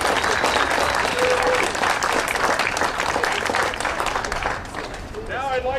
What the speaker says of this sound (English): Give each other a big hand of applause for doing such a great job.